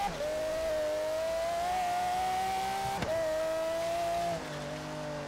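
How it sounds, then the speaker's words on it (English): A race car engine revs hard in Forza Horizon 3 while driving through a tunnel, a loud continuous whine that climbs in pitch, briefly breaks at a gear shift, then drops as revs fall, with no talking. "This car sounds good in that tunnel."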